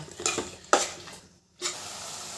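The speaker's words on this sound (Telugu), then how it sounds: "ఇప్పుడు పప్పు వేసి కాస్త కలబెట్టి తోటకూర వేసుకోవాలి" Dal and tomato are stirred in a pan, with a few scraping clinks of the spoon over a gentle sizzle, a short silence, then a soft rustle.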